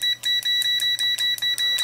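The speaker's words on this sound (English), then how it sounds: "you can also hear the bleeper sounding" A Venlab digital multimeter's continuity tester beeps in a regular, fairly slow series of short high-pitched tones, close and clear with no talking.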